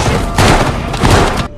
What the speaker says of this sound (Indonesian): Ellie menembak secara membabi buta untuk melindungi Joel